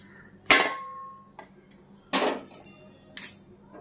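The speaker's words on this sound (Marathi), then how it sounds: "परातीमध्ये खोबरं आता थंड होण्यासाठी काढूयात." Roasted grated coconut is scraped from a pan into a wide metal plate, giving a few sharp clinks and scraping knocks spaced apart in a quiet kitchen.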